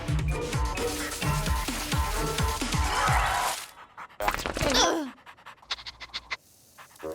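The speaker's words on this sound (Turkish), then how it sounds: "Aa, bir yavru köpek." A puppy pants quickly in short rhythmic breaths, followed by a few whimpers and yips with brief pauses between them.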